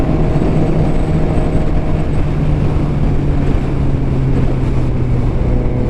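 Motorcycle cruising through the Tennessee hills, a continuous loud engine drone with heavy wind rush and low rumble, steady and unbroken from start to finish.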